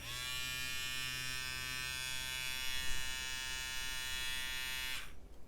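A counterfeit electric shaver and hair clipper runs on its charging cable, giving a steady, close, loud motor buzz with a bright whine that holds evenly for about five seconds and then cuts off abruptly.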